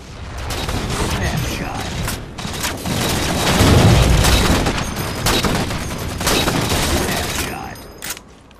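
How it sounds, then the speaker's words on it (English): Sniper rifle fire in Halo 4 gameplay cracks out in booming shots over a dense, continuous game mix of rattling gunfire and mechanical clatter, loud throughout. "I nose scope 2 guys with a sniper rifle."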